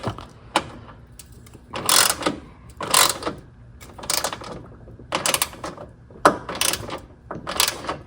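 A ratchet wrench tightens the nut on a Honda battery terminal extension in short bursts of clicking, about six separate strokes with pauses between, close and fairly loud with no talking.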